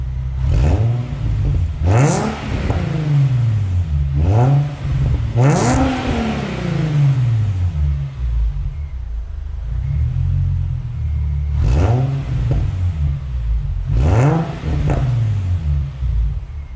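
An Infiniti G35 engine fitted with a new intake is revved repeatedly, each throttle blip rising to a loud whirring roar and falling back over a steady low idle rumble.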